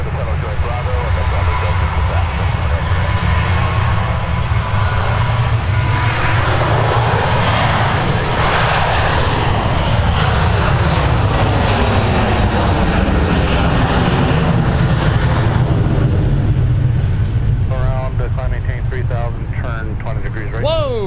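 A jet airliner's engines roar loudly and continuously as it powers up during a go-around at Minneapolis–Saint Paul airport, a sustained broad rumble with a rising and falling whine, and a voice speaks briefly over it.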